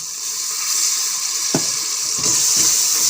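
Spice paste with chilies frying for a potato and cauliflower curry, with water sprinkled in. A loud, steady, close sizzle runs throughout, broken by a brief splash and crackle as the water hits the hot pan.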